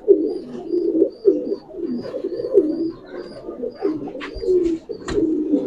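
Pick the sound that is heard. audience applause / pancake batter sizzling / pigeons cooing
pigeons cooing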